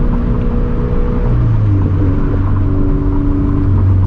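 A turbocharged Toyota FRS making over 350 horsepower pulls hard in second gear toward redline, its engine rising in pitch over several seconds with a loud, close, droning roar and no voices.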